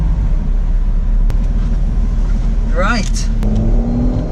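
A Lotus Exige Sport 380 accelerates away from a motorway toll booth, its engine rumbling loud and close throughout, with a rising whine near the end and a brief spoken word over it.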